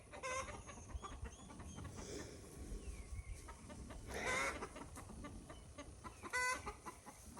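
Agitated hens clucking inside a backyard chicken coop on a homestead, a steady restless murmur of clucks with a few louder squawking calls standing out, close by.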